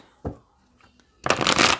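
Energy oracle cards are shuffled in a loud, fast riffle near the end, after a couple of soft taps and card handling, with no talk.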